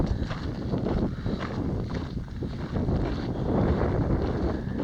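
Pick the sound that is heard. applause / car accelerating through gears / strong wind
strong wind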